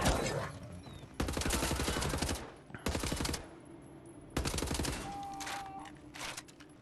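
Automatic gunfire in the shooter game Wolfenstein: The New Order, loud close bursts of rapid shots in several separate volleys with short gaps between them.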